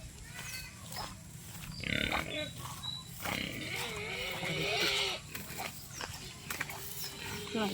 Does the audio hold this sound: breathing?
no